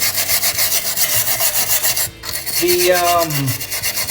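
Rotary wire brush grinding rust off an MGB exhaust heat shield, a loud close rasping scrub with rhythmic surges, briefly easing then resuming with a rising whine.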